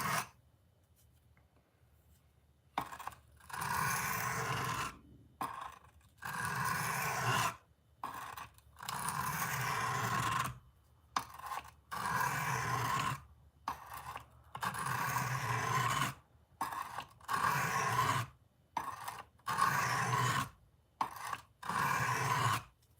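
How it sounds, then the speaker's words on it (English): A 1971 Case Sodbuster knife blade drawn across a coarse sharpening stone to set a bevel, close gritty scraping strokes repeated in bursts of a second or two separated by short quiet pauses. "Right now, I'm just trying to establish a bevel. Probably need to do it on the coarse stone."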